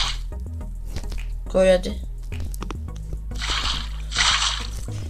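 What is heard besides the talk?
water being poured into a bucket in a video game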